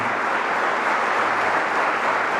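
Sustained audience applause for Swamiji at a speaking event, a steady, dense wash of many hands clapping at once, fairly loud and continuous throughout with no voices over it.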